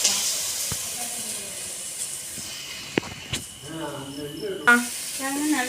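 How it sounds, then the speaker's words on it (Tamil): Onions, ginger and tomato sauté in a pan with a soft, steady hiss and sizzle, while a voice talks over it and a few sharp clicks punctuate the background. "இரு சின்ன வெங்காயம் ஒரு பெரிய வெங்காயம் போட்டு நல்லா வதக்கிக்கலாம்"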